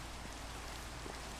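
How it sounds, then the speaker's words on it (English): Steady Minecraft rain hisses evenly and softly throughout, a dense, unbroken patter heard alone without any speech. "I'm standing around here in the rain."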